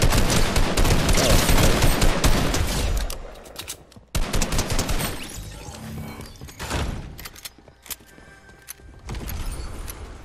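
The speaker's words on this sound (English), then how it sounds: "Wait, is that a drum gun?" Drum gun in a shooter video game fires long rapid bursts, dense loud automatic gunfire that breaks off, resumes in shorter volleys and trails into a final stretch of shots.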